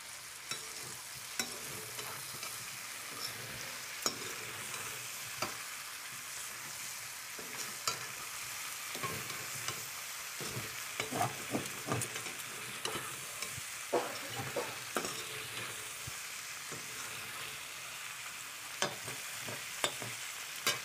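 Ginger stirred and fried in a hot pan for a home-cooked offering, with a steady sizzle and repeated scraping stir strokes, loud and close, and no talking.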